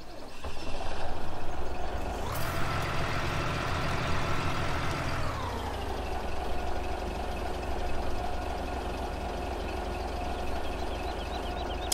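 A truck engine in the farming video game Farming Simulator 17 runs steadily, with a brief surge in revving or air-brake hiss early on before it settles back to a continuous idle-like drone.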